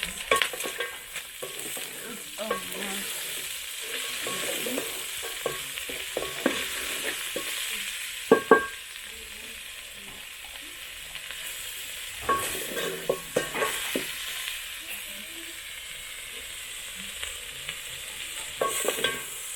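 Cut onions fry and sizzle in a pot over a village cooking fire for beef stew, a steady crackle with scraping stir strokes and sharper clacks of a utensil at intervals, with no talk.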